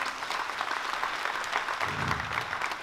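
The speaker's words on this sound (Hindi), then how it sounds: "इनके लिए एक जोरदार जमकर ताली बजाएं" A large rally audience claps loudly and steadily together, a dense wash of applause that continues without a break from start to finish.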